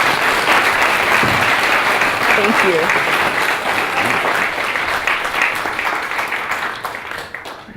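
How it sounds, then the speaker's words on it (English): An audience claps for a speaker at a talk on exploring Mars with the Curiosity rover. The applause is loud and sustained, then fades near the end, and a voice speaks briefly over it. "let's give a big round of applause to Dr."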